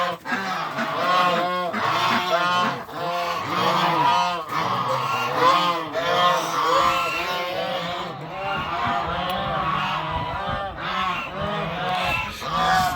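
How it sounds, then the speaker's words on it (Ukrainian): A flock of geese honks continuously nearby, with many overlapping loud, nasal calls forming a steady clamor. "гуси і качки"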